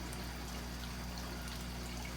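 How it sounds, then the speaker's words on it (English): Water from six aquarium tanks pours steadily back into a shared sump filter, a constant close splashing rush with a low pump hum beneath. "you can see the water coming back, flowing back into the sump, and that comes from the 6 tanks"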